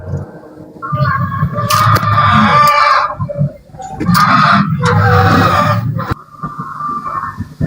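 Chickens clucking and a rooster at a backyard coop in a neighbourhood, loud and close, with dense overlapping bird calls and scratchy bursts through most of the stretch and a brief lull in the middle.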